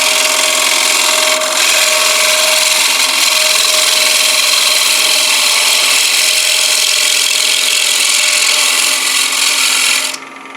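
A gouge cuts into a wooden bowl spinning on a lathe, giving a steady, loud scraping hiss that runs unbroken for about ten seconds before cutting off abruptly.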